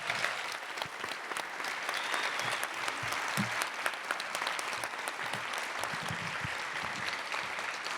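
Sustained applause from a lecture audience at an evening memorial lecture, dense steady clapping holding evenly for the full stretch with no voices over it.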